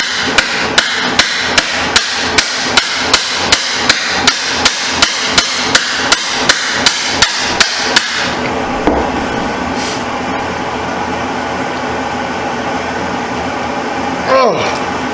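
About twenty evenly spaced sharp hammer blows strike a screwdriver to loosen a stuck stator screw on a 1989 Suzuki RMX 250 dirt bike, close and loud, then stop and give way to quieter shop noise.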